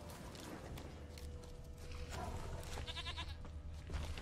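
Goats bleating in the video game The Witcher 3, faint wavering bleats in the second half over a low rumble and creaking mechanical background.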